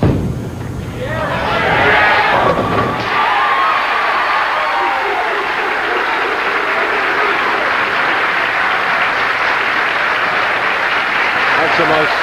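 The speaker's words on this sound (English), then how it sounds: "That's the most sustained cheering that we've heard on the tour for a long time." A large crowd at a professional bowling tour event cheers loudly and without pause for hometown bowler Danny Wiseman, with dense applause and shouting that rises and then holds at full strength.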